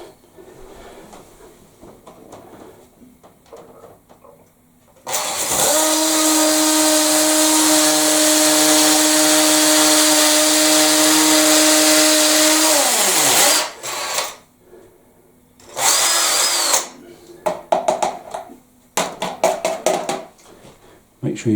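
An electric drill bores through ceramic tile into a Victorian solid brick wall in a loud, steady whine for about eight seconds. Shorter bursts follow, with quiet gaps and some clatter between them.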